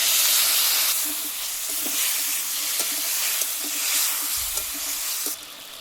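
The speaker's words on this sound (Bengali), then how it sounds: "সামান্য একটু জল দিয়ে ভালো করে কষাবো।" Masala with turmeric and ginger paste is sautéed in a pan with a splash of water, a hissing steamy sizzle close by with light periodic scrapes of stirring.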